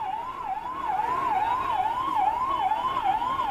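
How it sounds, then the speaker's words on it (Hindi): Wailing fire engine siren at a blaze in a department store in Jhansi, a rising and falling tone cycling steadily about twice a second, loud and continuous with traffic rumble beneath. "दमकल की कई गाड़ियां मौके पर पहुंची और आग बुझाने का प्रयास कर रही हैं।"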